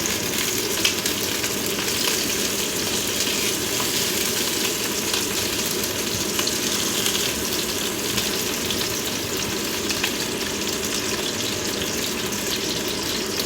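Thick sausages frying in a pan make a dense, continuous sizzle with a steady hiss and fine crackle, even and close throughout with no voices.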